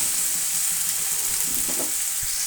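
Spices and potatoes sautéing in a pan for a jackfruit and prawn dish, with a dense, steady hiss of frying and faint stirring, close and continuous, no voices.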